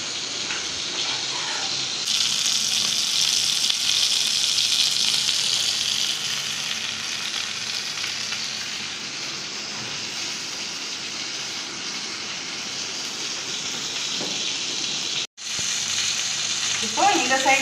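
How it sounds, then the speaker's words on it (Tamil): Chapati sizzles and fries on a hot pan, a steady close hiss that swells slightly partway through and continues almost unbroken, with a brief dropout and a little handling clatter near the end. "நம்ம இப்போ சப்பாத்தி போடுறோம்."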